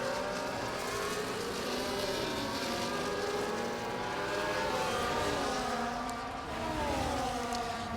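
Race cars from a racing video game run side by side in a race at Miami, a dense, continuous engine roar with overlapping tones swelling and shifting throughout.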